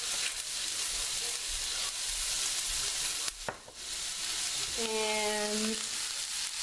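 Food fries steadily in a frying pan while making curried chickpeas and rice, a close, even sizzle throughout, with a brief scrape of stirring and a short spoken phrase near the end.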